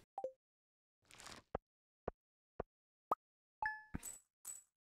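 A short sequence of bright chimes and clinks in the Stardew Valley video game, marking a completed coop building: a few sharp tonal blips and taps spaced out, then a ringing jingle, close and clear in near silence.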